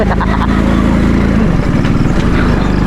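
A motorcycle rides over a slippery muddy road, its close engine chugging with an uneven, pulsing rumble, with no talk over it.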